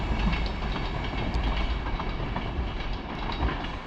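An intercity train on the Newry to Belfast line pulls away toward Belfast Central with a steady rolling rumble and faint wheel clatter, fairly near and continuous, with no speech.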